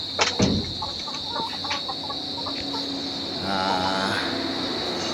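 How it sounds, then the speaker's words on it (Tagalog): Chickens on a farm cluck in a steady mixed chorus, close by, with a sharp call near the start and busier squawking toward the end. "ayan po yung mga manok natin"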